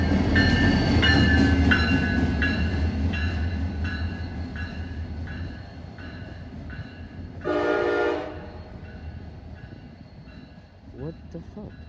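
A CSX freight train led by locomotive 720 rumbles past close by with steady rolling noise and wheel clatter, and a short horn blast sounds midway. Faint voices may be under the train.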